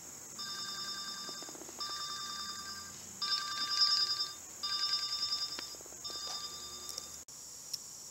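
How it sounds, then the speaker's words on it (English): A telephone rings with repeated electronic trill bursts in a steady on-off pattern, fairly loud and alone with no talk. "Sorry about that, my phone rang"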